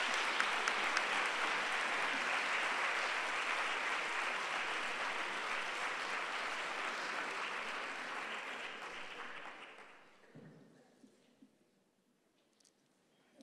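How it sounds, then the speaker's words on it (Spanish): Sustained audience applause at a university sports awards gala, loud and dense for about ten seconds before fading out to near silence. "Un aplauso para ellos"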